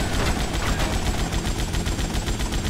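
Dense rapid gunfire in GTA Vice City Definitive Edition, a loud sustained automatic burst of steady shots that runs unbroken through the whole stretch with no talk.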